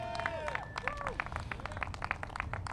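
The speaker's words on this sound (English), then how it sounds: "Let's give them a big round of applause." Scattered clapping from a small audience at a mayor's inauguration press briefing, steady but thin, with whistles, cheers and murmured voices mixed in.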